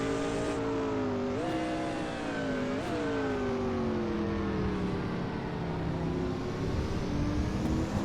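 Race cars including a Ferrari 333 and a Dodge Viper in a 2000 Grand-Am race at Phoenix, engines droning with steady high-pitched harmonics that rise sharply twice as the cars accelerate, loud and continuous from close on track.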